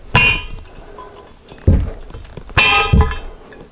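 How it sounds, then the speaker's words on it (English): Close metallic clangs and knocks as a screwdriver pries the dust seal from a 1983 BMW R100RS wheel hub, several sharp separate hits over a few seconds with no talking. "this is the dust seal, which I'm just going to pop out with a screwdriver"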